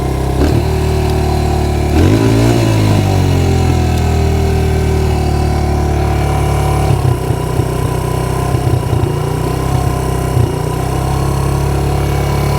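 A Suzuki DRZ125 dirtbike engine idles high, a loud close steady buzzing drone with slight pitch wavers and small blips, with no one talking.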